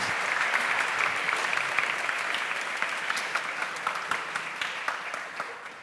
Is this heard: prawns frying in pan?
no